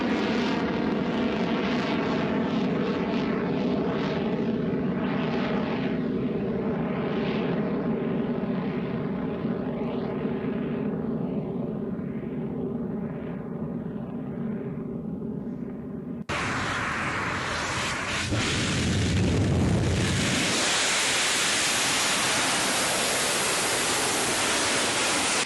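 Sustained, powerful roar of a rocket launch at Alcântara Spaceport in Brazil, a dense broadband rumble with wavering tones that suddenly gives way to a harsher, brighter blast of noise, continuous and loud throughout.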